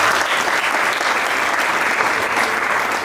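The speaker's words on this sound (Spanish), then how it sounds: "Un fuerte aplauso también" Loud, sustained applause from a crowd at a digital marketing workshop, a dense, even roar of clapping with no breaks.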